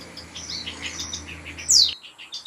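A small pet bird, sick and coughing, chirps in quick, bright bursts close by, with a sharper, louder squawk near the end before brief quiet.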